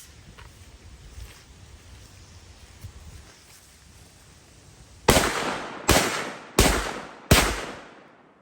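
A 7.5-inch 300 Blackout AR pistol fires four sharp, loud shots about a second apart outdoors, each with a short echoing tail, after several seconds of quiet ambience.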